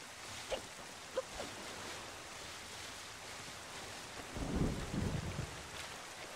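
Rain and thunder in the video game The Legend of Zelda: The Wind Waker, a faint steady hiss of rainfall with a few soft taps and a low rumble of thunder swelling near the end.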